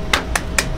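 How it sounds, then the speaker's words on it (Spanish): Three sharp claps from a small studio audience greet a television show's doctor guest, sparse and thin rather than full applause, each a brief broadband burst. "Un fuerte aplauso para él, por favor."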